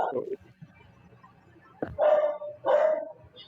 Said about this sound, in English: your dog is louder than you